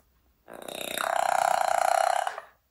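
A parrot mimics a human burp: one long, loud, throaty belch lasting about two seconds, with a buzzing, rattling tone, heard alone against silence.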